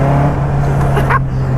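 A Caterham 310R, a lightweight road-legal sports car, with its engine droning at a steady low hum, loud and close with a brief rise in pitch near the end.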